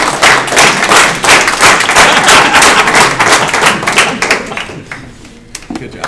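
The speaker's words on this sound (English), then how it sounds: "if we all tried to sync our clapping for you" A lecture-hall audience at final engineering presentations claps in unison, loud rhythmic synchronized claps that gradually break apart and fade toward the end.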